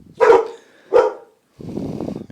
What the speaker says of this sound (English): what they barking for out there?